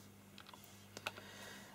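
Calculator keys pressed in a quick run of light plastic clicks, a few soft taps then a sharper pair, close and quiet over a steady low hum, with no talking.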